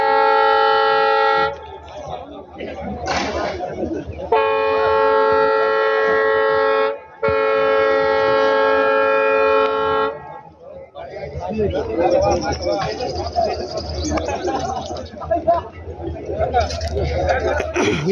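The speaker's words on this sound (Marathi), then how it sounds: "तुम्हाला जे ट्रेन आहे येणारी त्या गाडीचा जो हॉर्न आहे तुम्हाला तर ऐकायला येतच असेल" An arriving train's horn sounding in long sustained tonal blasts, broken by brief gaps, while someone talks over it and crowd chatter fills the pauses near the newly opened railway line.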